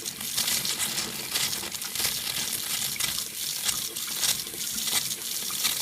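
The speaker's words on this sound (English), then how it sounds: "I always wondered why the faucet made these funny sounds when it runs. That's gas coming out." A kitchen faucet runs steadily, its rushing water sputtering and spitting irregularly as gas escapes with the flow; close and continuous, without talk.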